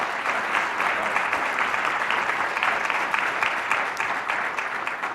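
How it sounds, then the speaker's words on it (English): Conference audience applauding a panel speaker, dense sustained clapping from a sizable crowd, loud and even for the whole stretch with no speech. "So let's give him one more round of applause."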